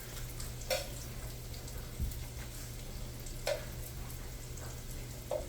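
Quiet, steady sizzling of eggplant frying in a pan, with a few soft clicks and pops scattered throughout.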